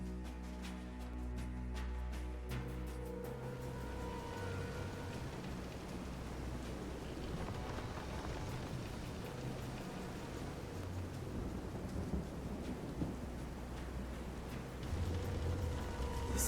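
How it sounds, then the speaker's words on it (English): A raging thunderstorm with steady heavy rain lashes a pitching boat at sea in Visions of Mana, a dense constant wash of downpour with deep rumbling underneath, loud and unbroken throughout. "This is some storm."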